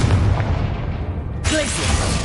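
A Confringo blast spell in the Hogwarts Legacy video game: a heavy low boom rumbling under a spoken voice, then a sharp bright burst with crackling debris near the end.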